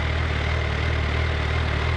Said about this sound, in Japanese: うわ空冷ファン再び